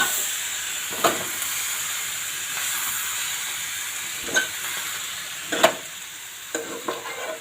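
Spice paste being mixed into vegetables in a pan, a continuous hissing sizzle with occasional scraping stirs at irregular intervals, close and moderately loud, with no voices.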